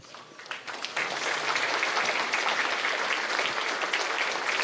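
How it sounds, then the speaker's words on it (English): Conference audience applauding President Tsai at the Ketagalan Forum, clapping that starts scattered then swells within a second into full, sustained applause filling a large hall. "Please join me in giving Her Excellency President Tsai a round of applause"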